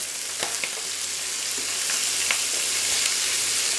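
Guinea fowl pieces frying skin-side down in a pan give a loud, constant close sizzle with a few light clicks of turning, no voices.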